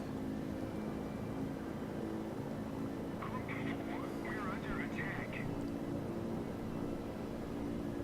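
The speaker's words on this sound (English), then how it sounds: "So my bombers are arriving." Torpedo bomber aircraft in the World of Warships game arrive with a steady, dense engine drone that holds evenly throughout, with a brief burst of higher chirping tones partway through.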